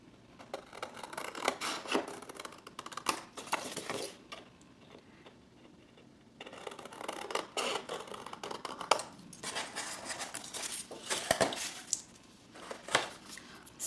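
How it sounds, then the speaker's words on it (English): Scissors cut diagonal lines through paper for a photo tag, close and quiet, in repeated crisp snipping runs separated by short pauses. "I'm going to cut these diagonal lines."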